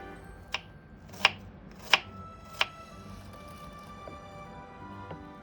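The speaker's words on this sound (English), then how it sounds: "Chop that apple." An apple chopped on a board, four crisp sharp knife strikes at roughly even spacing, then two fainter taps, close and fairly quiet with no talk.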